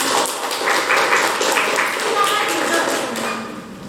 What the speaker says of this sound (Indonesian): Tepuk tangan sekali lagi untuk kelompok yang kedua.